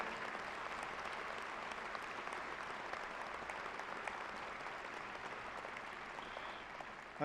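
Crowd applause at a university fall commencement ceremony honoring graduates with 4.0 averages, a steady, fairly distant wash of clapping that holds evenly throughout with a brief louder burst at the end.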